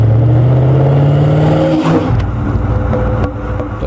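Maserati Ghibli SS with a 335 horsepower 4.9 liter dry-sump V8 revs loudly up and then drops back, a deep close-up engine roar with no talking.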